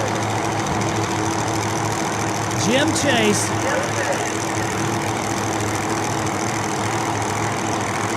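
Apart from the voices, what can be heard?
drag racing funny car engine running at the starting line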